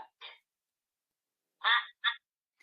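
Recorded duck quacks from a double-sided animal sound flashcard toy: two short, nasal bursts close together after a faint earlier blip, loud and clear with no talk over them.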